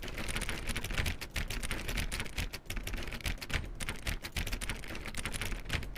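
Rapid, repeated clicking on door 417 in The Stanley Parable (Ultra Deluxe), a steady, dense run of sharp clicks with almost no pause, close and fairly loud.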